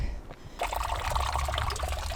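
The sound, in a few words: water trickling from a spring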